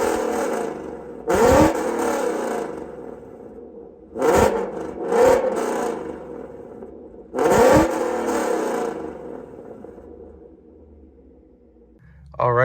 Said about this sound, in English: So now let's give you guys some revs.